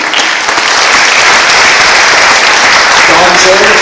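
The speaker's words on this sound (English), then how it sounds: "Round of applause." Steady, loud applause from a crowd, with continuous clapping throughout and a few voices faintly under it.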